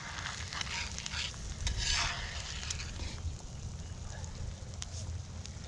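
Eggs fry on a seasoned cast iron Dutch oven lid used as a griddle, giving a steady close sizzle with scraping and stirring noises from a spatula, no voices over it.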